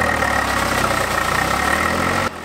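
A tractor engine idles close by on a village paddy farm, a steady low rumble with an even mechanical pulse that holds strong, then drops off abruptly at the end.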